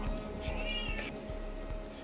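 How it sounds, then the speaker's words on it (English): A cat meows repeatedly in a quiet room, a series of faint, drawn-out cries with soft rhythmic taps beneath, heard alone without talk. "Meow."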